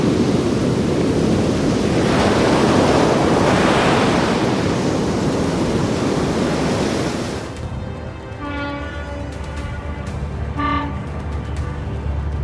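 Violent storm waves roar and crash around a fishing boat at sea, a loud sustained surge for about seven seconds that then gives way to a lower steady hum with horn-like tones.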